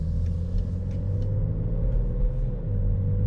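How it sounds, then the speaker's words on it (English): BMW X5 SUV accelerating onto a highway, heard from the cabin as a deep steady engine rumble with a slight rise in pitch, no talking. "you have to really press the gas to actually start moving"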